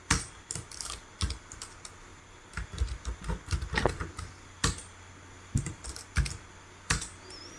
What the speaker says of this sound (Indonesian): Kemudian di bawahnya kita ketik nomor 1